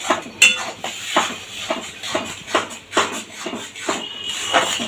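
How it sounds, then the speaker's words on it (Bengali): Drumstick (sajne data) curry stirred in a cooking pot, a spoon scraping and knocking against the metal in an irregular series of clinks and shuffles, close and fairly loud, with no talking. "এবার ভালো করে নাড়তে হবে যাতে তলায় না লেগে যায়"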